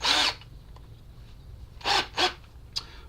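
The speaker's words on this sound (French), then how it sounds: "On va percer dans un premier temps le support ici, afin de pouvoir le fixer." A 4.5 mm drill bit boring into a camera support bracket, in three short harsh bursts of drilling with quiet pauses between them, close by.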